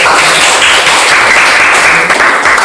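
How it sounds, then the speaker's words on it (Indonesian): A class of students applauding, steady loud clapping from many hands filling the room without pause for nearly three seconds. "Berikan aplaus dulu"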